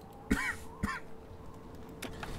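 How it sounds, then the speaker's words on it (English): Two harsh coughs from a man in quick succession, close and fairly loud, followed by quiet room noise. "sorry for coughing"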